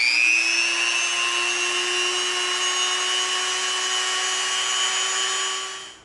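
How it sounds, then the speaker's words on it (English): A Dremel rotary tool rounds the edge of EVA foam with a steady, loud high-pitched whine that holds constant for about six seconds, then winds down at the end; no voices. "Now we're going to Dremel the edge a little bit."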